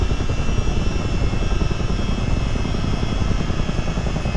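An aircraft departing Bessemer Municipal Airport in Flight Simulator, a loud continuous engine and propeller drone that holds steady and close throughout.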